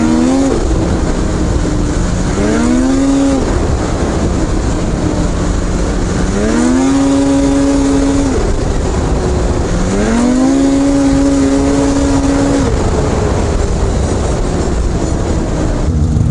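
A Polaris Assault Boost snowmobile engine pulls hard through repeated rising accelerations, each surge climbing steadily in pitch before dropping back, loud and close with constant track and wind roar underneath.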